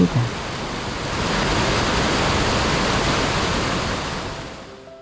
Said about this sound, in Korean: 계곡 물소리가 우렁차네요. 커다란 폭포 같은 소리를 냅니다